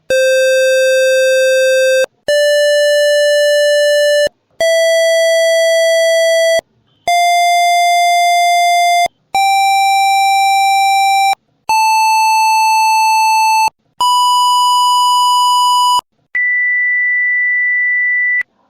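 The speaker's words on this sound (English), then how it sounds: "Let us demonstrate the musical notes that you should hear as you walk towards the plain wall" An AUSION obstacle-distance device sounds eight steady electronic musical tones, each about two seconds long with brief gaps, stepping higher in pitch as a person walks toward a plain wall, the last tone thinner and purer.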